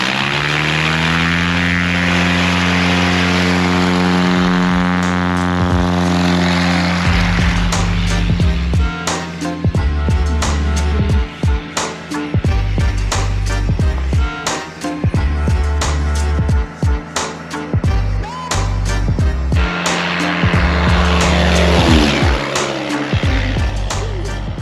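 Propeller engine of a STOL aircraft at a fly-in STOL drag event, a loud sustained drone with steady harmonic tones that shift in pitch, broken by bursts of rumble and clatter as the plane lands and taxis nearby.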